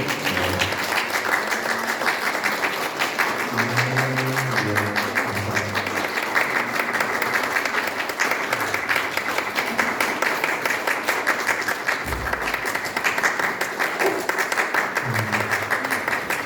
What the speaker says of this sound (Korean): 박수 좀 보내주시겠어요?